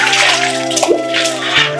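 Water is scooped and sloshed up close in a quick splashy burst, with a steady hum underneath.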